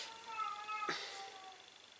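A cat meows indoors, a single drawn-out harmonic cry close to the microphone with a short sharp burst near the end, over quiet room hiss and no speech.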